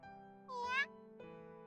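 A single faint kitten meow, short and rising, heard alone over a quiet background with a low steady hum.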